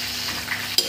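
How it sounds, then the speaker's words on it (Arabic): Garlic with coriander and pepper fries in ghee, a steady close sizzle with stirring, ending in a sharp clatter near the end. "حطيت السمنه نحط ايه الثوم بالكزبره بالفلفل"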